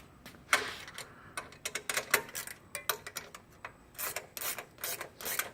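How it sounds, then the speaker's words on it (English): Ratchet loosening the brake stay hardware on a Rugged Cycles Transporter 2.5 bicycle: rapid, uneven bursts of close, crisp clicking, starting and stopping repeatedly with no talk. "you can go ahead and loosen up the brake stay hardware"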